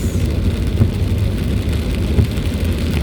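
Steady typhoon rain pouring down during Typhoon Crising, a dense rushing hiss with low rumbling beneath, constant throughout.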